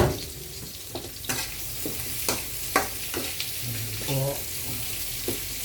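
Pancit returned to a pan sizzles quietly while a spatula scrapes and taps at irregular intervals, with a brief spoken phrase partway through.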